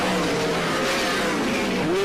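Speedway race cars roaring around the oval at Warrnambool during night heats, a dense continuous engine drone with rising pitch sweeps as cars come off the turn, loud and steady throughout with a commentator's voice faintly underneath.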